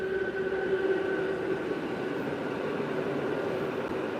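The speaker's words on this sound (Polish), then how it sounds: "to już jest Intercity." An Intercity passenger train rushes past close by, a loud continuous roar with a steady rumbling drone and wheel noise that stays strong throughout.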